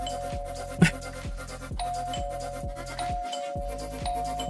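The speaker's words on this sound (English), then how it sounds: "Okay, so those are the doorbells." Doorbells in the video game House Flipper 2 chime repeatedly in a steady two-tone ding-dong pattern over a regular looping background beat, with one sharp knock-like hit early on and no talking.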